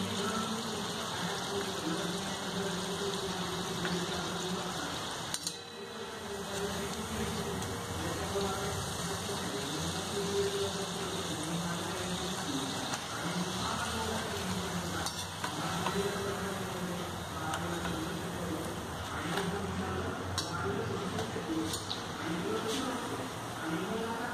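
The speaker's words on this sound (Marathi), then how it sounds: "आता आपण गॅस कमी करून देऊ, म्हणजे छान खरपूस अशा तांबूस रंगावर त्या तळल्या जातील" Puris deep-frying in hot oil over a lowered gas flame in a home kitchen, giving a steady close sizzle and bubbling hiss that runs throughout with soft stirring sounds underneath.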